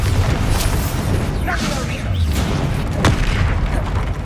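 A Bombarda blasting spell explodes in the Hogwarts Legacy video game, a broad, booming rumble with scattered bursts and crackles that keeps roaring without a break.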